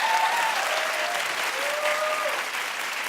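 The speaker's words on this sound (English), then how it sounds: "Clap if you care." Studio audience applause on a television talk show, a dense steady wash of clapping that fills the whole stretch at constant loudness, with faint voices briefly audible underneath.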